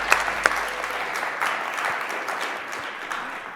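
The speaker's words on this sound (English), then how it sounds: "Can we give one round of applause for our contestants?" An audience at a student business pitch competition gives a round of applause for the contestants, a full, even wash of many hands clapping throughout, moderately loud and without speech.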